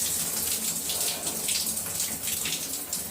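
Shower water runs steadily while hair is rinsed, a continuous close hiss and patter of spray at an even level with no talking.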